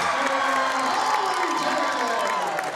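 A home crowd at a regional high school basketball game cheers and shouts in a sustained roar, with children's voices and whoops mixed in and commentary audible over it.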